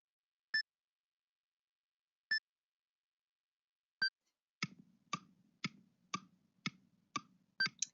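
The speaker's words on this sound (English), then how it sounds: "there's a little timer going on this question" Quiz question countdown timer ticking: a few sparse bright beeps, then a steady run of evenly spaced sharp ticks about twice a second over faint hum, quiet and isolated.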